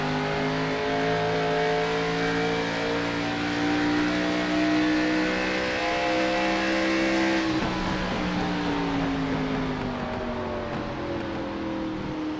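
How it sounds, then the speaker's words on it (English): Race car engine in a Scrambler Series dirt-track event, held at a steady loud drone with the throttle worked back and forth, pitch dipping sharply midway then climbing again, continuous and close. "You hear him playing with the throttle"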